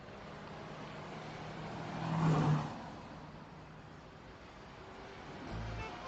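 A car driving on the road, heard from inside as a muffled, steady engine and road hum, briefly swelling as it speeds up, with a soft thump near the end.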